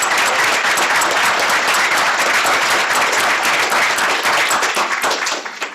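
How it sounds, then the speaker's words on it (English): A conference audience gives panelists a sustained, dense round of applause, loud and continuous from a full room before it tapers off at the end. "Let's give all our panelists a round of applause."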